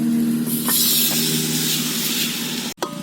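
Tomatoes sizzling in a pan while being sautéed for mutton biryani, a continuous loud frying hiss with a brief clatter near the end.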